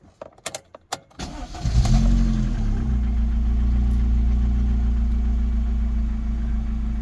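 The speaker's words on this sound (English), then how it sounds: "There's nothing wrong with the idle anymore." A 2000s hot hatch engine cranks after a few sharp clicks and a key rattle, catches with a rising rev, then settles into a steady, even, close idle.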